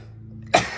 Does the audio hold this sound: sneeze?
yes